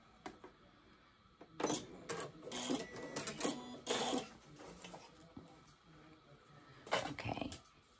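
Home sewing machine stitching dress fabric in short bursts, a fast mechanical whir that starts and stops twice, close but quiet, with pauses of faint room noise in between.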